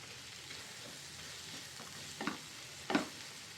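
Small prawns frying in a pan, Andhra style, a soft steady sizzle with two sharper scraping stirs near the end, close but fairly quiet.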